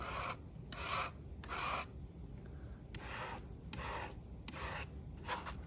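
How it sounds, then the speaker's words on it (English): A palette knife scrapes and smudges soft oil pastel across paper in repeated short rasping strokes, about eight passes separated by brief pauses, close and fairly quiet with no voices. "Smudging it with a palette knife. Rubbing it in with a palette knife."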